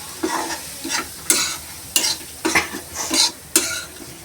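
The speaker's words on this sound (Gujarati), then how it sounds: "સોજીને આપણે તેલમાં શેકી દેવાનું" Semolina roasting in oil for upma is stirred with a spoon in a pan, producing a steady sizzle broken by about seven sharp scraping strokes at a loose, regular rhythm, close and loud.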